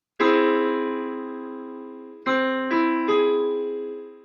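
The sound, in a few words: piano augmented triad chord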